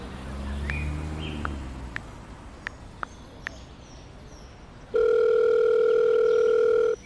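A telephone dial tone drones steadily for about two seconds after a few soft taps and clicks of a phone being handled, loud and close, with no voices.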